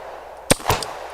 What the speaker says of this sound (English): So I need to shoot it once it's over the island.